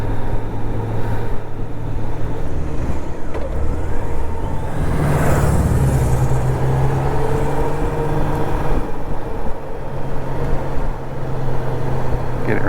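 A 1997 Honda Goldwing GL1500SE riding through town, a steady loud engine drone mixed with heavy wind rush, the pitch swelling briefly mid-ride, with no talking.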